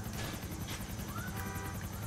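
Police helicopter in Grand Theft Auto IV, a steady close rotor drone with rapid blade chop filling the whole stretch, loud and continuous without voices.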